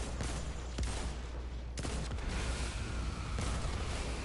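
In Destiny 2, Dragonfly perk explosions burst amid dense gunfire and game effects, producing a loud, continuous crackle with a few sharper blasts standing out.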